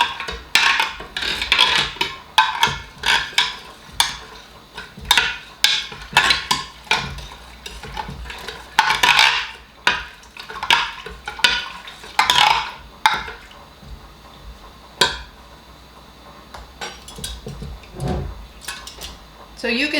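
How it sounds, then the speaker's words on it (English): Spoon stirring sugar as it melts in a pot, with repeated scraping and clinking strokes against the metal in an uneven rhythm, close and fairly loud. "I'm just going to stir this."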